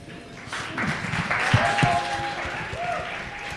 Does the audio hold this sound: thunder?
no